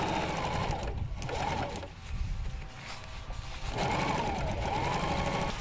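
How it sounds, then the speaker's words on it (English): Sewing machine stitching fabric for a homemade kayak cover: two long bursts of rapid, steady mechanical whirring and needle clatter, close and loud, with a brief slower pause between them and no talking. "If you don't know how to use a sewing machine, I have a video on my channel that shows how to use a sewing machine"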